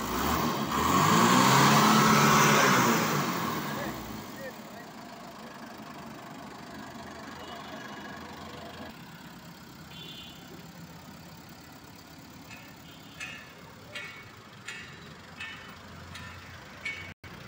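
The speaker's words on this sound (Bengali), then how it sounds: "গাড়িটি কিন্তু রানিং অবস্থায় আছে দর্শক, ইঞ্জিনের সাউন্ডটা শুনতে পাচ্ছেন" A Tikin 12-foot truck's engine revs loudly at first, then drops back to a steady low idle rumble close by, with a few faint knocks and clicks toward the end.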